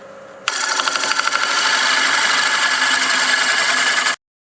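A wood lathe turns a macadamia bowl at about 750 RPM, a steady loud whirring hum with a fine rhythmic flutter that kicks in abruptly and runs evenly for several seconds before cutting off.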